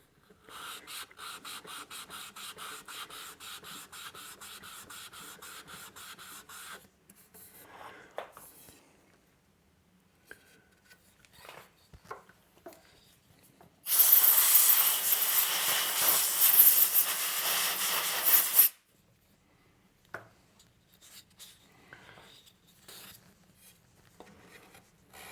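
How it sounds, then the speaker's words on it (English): A small sanding block is rubbed by hand over a wooden guitar headstock, first in quick rhythmic strokes, then in a louder, hissing stretch, with scattered softer scrapes and pauses between. "I like these little sanding blocks a lot."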